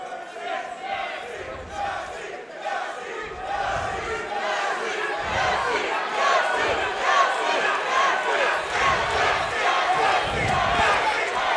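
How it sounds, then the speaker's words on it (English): A big arena crowd at an FSC28 grappling event chants a fighter's name in a rhythmic, repeated call that swells and grows louder over the span, with crowd noise filling the gaps between chants. "You can hear the crowd here chanting Yacine in favor of the Team Crossface representative."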